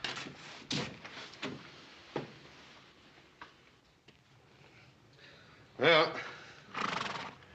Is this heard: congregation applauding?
no